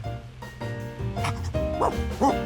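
A cartoon dog barks several times in short, bright yips and woofs over light background music.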